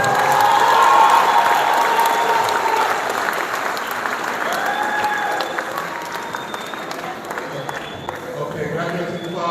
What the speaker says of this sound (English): graduating class of 2025 a massive round of applause.